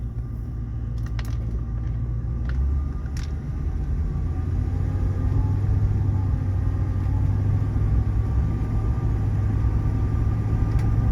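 A 1977 Ford LTD Landau engine rumbles and pulls away, its pitch climbing and dropping through automatic gear shifts, with a few faint clicks near the start.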